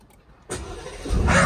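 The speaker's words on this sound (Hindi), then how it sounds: "चलो गाड़ी ऑन करते हैं।" A Suzuki Swift, a modified fast build, starts up: quiet near-silence, then the starter cranks and the engine catches, swelling to a loud, close idle roar by the end.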